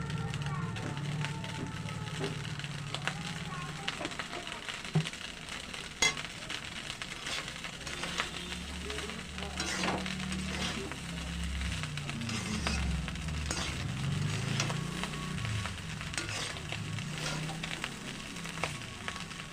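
Jeera rice is stirred in a frying pan, with a steady low sizzle and repeated scraping and clinking of the spatula against the pan, continuing at close range throughout.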